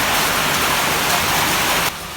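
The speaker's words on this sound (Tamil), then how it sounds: "ஜோராக மழை பெஞ்சிட்டு இருக்குது." Heavy rain pours outside a home kitchen as a steady, loud, dense hiss that cuts off abruptly near the end.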